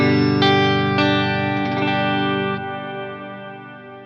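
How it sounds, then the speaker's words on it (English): Mad Professor Kosmos reverb pedal with its ducked reverb, a sustained guitar chord with a few fresh strikes that rings on, the reverb tail swelling and lingering after playing stops, loud and alone. "The control adjusts the duck level of the reverb."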